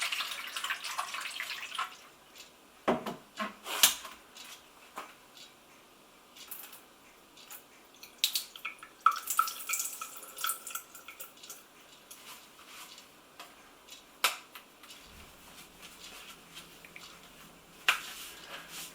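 Soft trickling and dripping of rinse water poured out of a Bosch Glass Vac window vacuum, with scattered small taps and clinks, fairly quiet and close, no talking.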